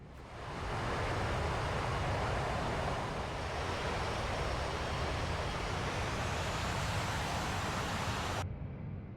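AJS-37 Viggen jet in DCS World taxiing around a base with reverse thrust braking, a loud steady broadband engine roar that holds constant for several seconds before cutting off abruptly near the end.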